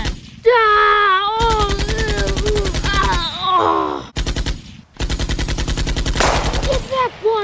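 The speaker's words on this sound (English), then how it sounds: "None, I shot them all, Bowser." Toy-scale war battle with sustained machine-gun style bursts of gunfire, loud and rapid, broken by short pauses, with groaning, wailing voices and shouting mixed in over the shooting.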